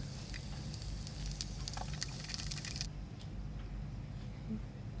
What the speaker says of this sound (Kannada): ಚೆನ್ನಾಗಿ ಉಳ್ಳಾಗಡ್ಡೆ ಫ್ರೈ ಆಗ್ತಾಯಿದೆ